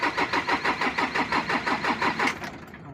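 Isuzu 4HL1 diesel engine, which had died while running, cranks on the starter without catching: a fast rhythmic churning chug of about a dozen even pulses, close and loud, cutting off after about two and a half seconds.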